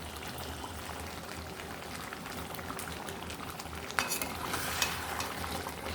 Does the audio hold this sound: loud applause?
no